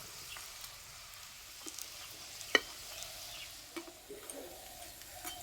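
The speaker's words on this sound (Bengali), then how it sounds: "হালকা আঁচে একটু সময় ধরে ভেজে নিলে খুব সুন্দর ভাজা হয়।" Potato and wheat flour dough frying on low heat in a pan gives a quiet, steady sizzle with a few soft clinks and scrapes, one sharper tap near the middle.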